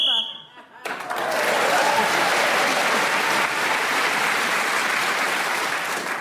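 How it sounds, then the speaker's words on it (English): Studio audience of a radio panel comedy show breaking into applause after a short spoken phrase, a sustained wash of clapping holding loud and even for several seconds. "That round of applause when she said, I'm getting nearer to him."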